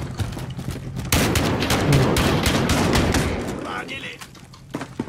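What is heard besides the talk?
shotgun gunfire in a video game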